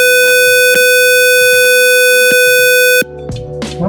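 An Arduino-driven buzzer blares a steady, loud electronic tone for about three seconds, with faint clicks beneath it, then cuts off abruptly and leaves only low background noise and handling sounds.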